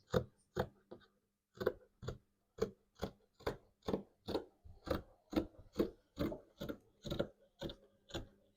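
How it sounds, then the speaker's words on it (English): Scissors cut through fabric for the body of a kaftan, producing a steady series of about fifteen short, crisp snips at an even rhythm, close by and fairly quiet, with no voices. "Then we're going to cut the body"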